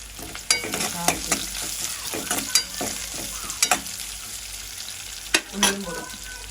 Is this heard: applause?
no